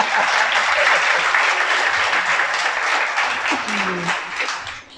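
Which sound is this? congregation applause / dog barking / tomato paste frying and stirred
congregation applause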